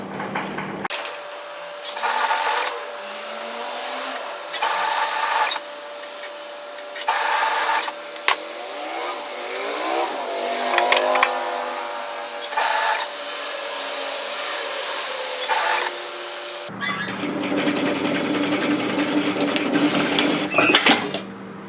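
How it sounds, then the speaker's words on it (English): An overlocker serges the sleeve seam of a bomber-style varsity jacket, whirring in a string of short, evenly spaced bursts before settling into a longer continuous run near the end. "complete that seam to tidy it up with our overlocker"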